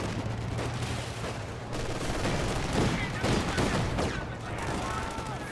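A .50 cal machine gun fires in a Company of Heroes 2 battle as sustained rattling bursts mixed with other combat noise. A commentator speaks over the gunfire.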